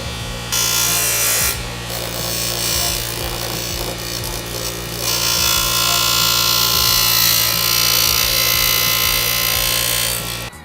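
A loud power tool cuts a plastic rear diffuser part for a 2015+ Subaru WRX, with a continuous whining, grinding drone that shifts in intensity as it bites into the material.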